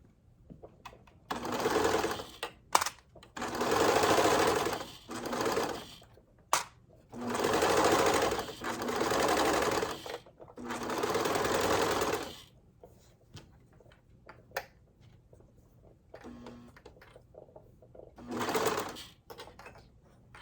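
A serger stitches a small seam on fabric in several whirring runs of a few seconds each, separated by pauses with faint handling noises, close and clear.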